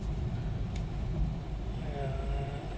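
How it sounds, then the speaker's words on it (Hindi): A car engine while driving and making a turn, a continuous low rumbling drone with road noise, steady in level and heard from inside the vehicle. "यहाँ से अपने को घुमानी है गाड़ी।"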